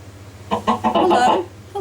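A Minecraft chicken clucks in a quick series of short, close, moderately loud clucks over a low steady background hum, with no speech during the calls.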